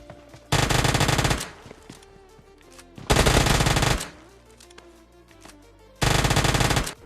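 Uzi submachine gun in a shooting video game fires three loud, close bursts of rapid automatic fire, each lasting about a second, with quieter game noise and faint clicks between them.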